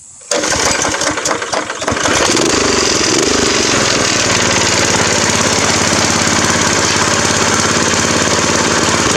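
A cheap go-kart engine started with the choke on, catching after a few rough cranks and then running loud and steady with a throttle-up rev.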